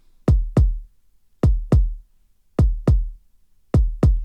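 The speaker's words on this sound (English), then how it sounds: "in blue I have a kick which sounds like this." A kick drum playing in Studio One hits in isolated pairs, thump-thump, then a pause, repeated four times like a heartbeat, each deep hit punchy and close with a short decay over silence.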